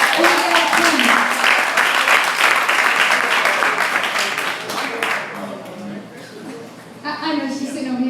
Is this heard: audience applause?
yes